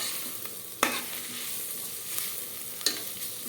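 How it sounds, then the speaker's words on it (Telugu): Ginger and garlic frying in a pan for Telangana bagara rice, a steady close sizzle with a few sharp scraping stirs cutting through, no talking. "ఫ్రై చేస్తున్నాను."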